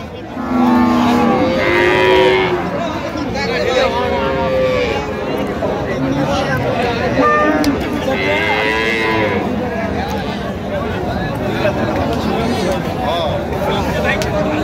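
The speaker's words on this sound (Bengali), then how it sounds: "বেশ সুন্দর গাভী বাছুর আমরা দেখছি।" Cows with calves at a busy village cattle market in Raniganj, giving repeated loud, drawn-out moos close by over a constant babble of bargaining voices and crowd noise.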